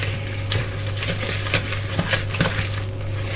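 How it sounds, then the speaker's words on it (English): A spoon stirs thick carrot cake batter with nuts and egg in a bowl, steady close scraping and wet churning strokes repeating in an even rhythm. "we're going to give the whole thing a good mix"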